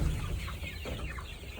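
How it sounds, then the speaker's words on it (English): Chickens cluck softly inside a coop, with faint, scattered calls sitting under a steady hum of room noise. "This is where the chickens are at."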